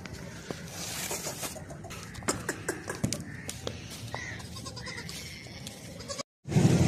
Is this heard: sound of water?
no